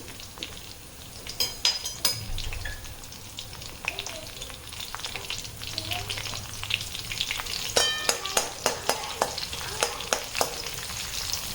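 Cumin seeds crackle and pop in hot oil, a close, continuous sizzle dotted with sharp snaps that grow denser toward the end, with occasional stirring clinks.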